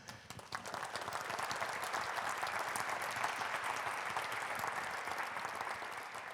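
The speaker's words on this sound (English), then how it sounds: "I want to offer an applause to all of them" Sustained applause from an audience at the BPI Research Day 2025, honoring the Bioproducts Institute team; dense, steady clapping that swells quickly and holds at an even level throughout, with no talking over it.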